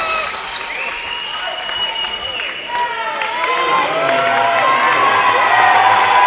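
A basketball crowd at Ringwood's home semi-final against Waverley applauds and cheers loudly and steadily, with whoops rising near the end while a commentator talks over it.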